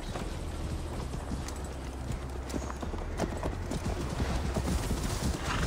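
Horses galloping in Assassin's Creed Valhalla, a rapid rhythmic clatter of hooves pounding continuously and building slightly in loudness, with a faint whinny and no clear speech.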